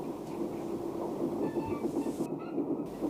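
Class 37 diesel locomotives hauling wagons of dust bound for the Redcar steelworks, captured on archive film; a steady rolling rumble with faint rhythmic rail clatter, continuous and moderately loud, with no voices.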